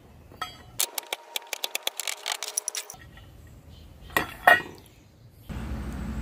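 Small wooden plugs being prised out with a little chisel, a quick run of sharp clicks and ticks in an uneven rhythm, close and dry, followed by a couple of louder knocks and some faint handling noise.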